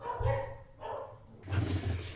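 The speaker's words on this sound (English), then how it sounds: "Let's just be quiet and listen to the dogs for a minute." Several dogs bark in short bursts, a few deep woofs spaced apart, fairly close, with no talking.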